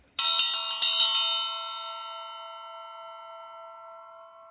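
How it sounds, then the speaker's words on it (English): A small bell rings in a quick series of strikes, then its bright tone rings on and slowly fades into silence. "I'm going to go ahead and ring the bell"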